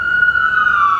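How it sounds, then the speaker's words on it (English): An ambulance siren passing outside, a steady wailing tone that slides slowly downward as it goes by, fairly loud over low background street rumble. "Hear that ambulance?"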